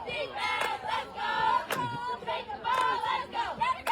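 A high school cheer team chants and shouts in ragged unison at a girls' flag football game, picked up fairly clearly by field microphones, with crowd noise around it and no talk over it.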